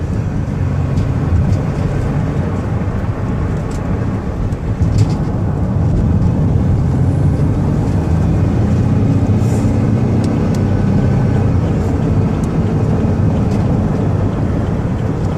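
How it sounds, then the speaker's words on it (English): A high-mileage 2007 Chevrolet Uplander wheelchair van (208k miles) accelerates on a highway, giving a steady, loud roar of engine and road noise that holds throughout with no talking. "I'm going to give it some gas so you can hear it run."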